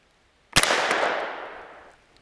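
A single sharp report from a Savage A17 rifle firing CCI V-MAX ammunition at a range, a close crack followed by a decaying outdoor echo tail lasting over a second.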